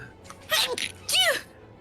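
Two quick sneezes in a row from a person during a tabletop role-playing game session, fairly close and loud against a quiet room.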